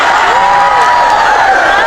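A crowd applauding during a sermon by an Islamic preacher, the clapping dense and steady throughout this short moment, with a faint voice trailing across it.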